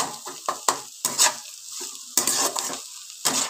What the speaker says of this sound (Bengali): এর সঙ্গে ভালো করে কপির সঙ্গে ভালো করে নাড়াচাড়া করে নেব।